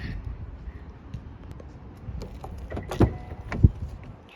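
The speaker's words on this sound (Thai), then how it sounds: "ก็ปิดประตูค่ะกดตรงปุ่มสีดำ ปุ่มสีดำตรงนี้นะคะ ก็คือปุ่มล็อกค่ะกดไปเลยค่ะ" A Honda City Hatchback SV's door shuts with two solid thuds near the end, following soft mechanical clicks and shuffling nearby.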